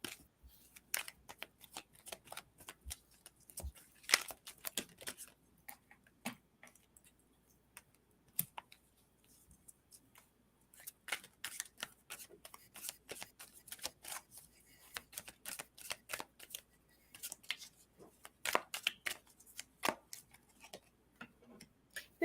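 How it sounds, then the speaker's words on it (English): Tarot cards being shuffled and pulled, a steady run of soft papery flicks and snaps with brief bursts of riffling, fairly faint and close, with no talking. "I'm going to pull these cards so I can't see them."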